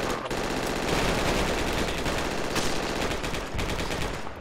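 Sustained automatic gunfire fills the Project Reality video game battlefield, dense and loud rapid bursts overlapping without pause.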